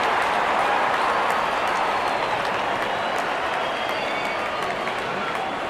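A steady, dense wash of stadium crowd applause and cheering from a Real Cricket mobile game plays throughout at an even, fairly loud level, with no clear voices.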